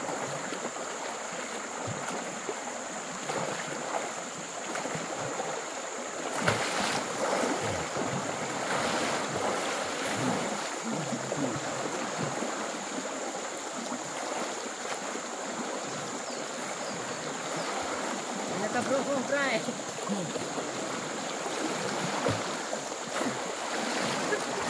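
Floodwater rushing through a stream in a forest near a cassava garden: a loud, constant broadband roar of fast-moving water with gusty wind noise buffeting the microphone throughout, no talk.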